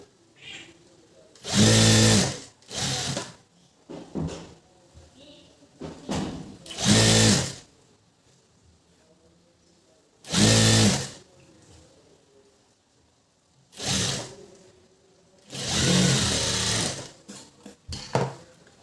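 A sewing machine stitches a blouse sleeve in bursts: several loud whirring runs of stitching, some short and some longer, with quiet gaps between them and no talking.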